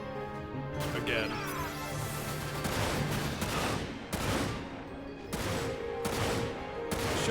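Gunfire in the video game Dirge of Cerberus, aimed at barrels, sounds as sharp repeated shots and clattering bursts at irregular intervals over a continuous game soundtrack.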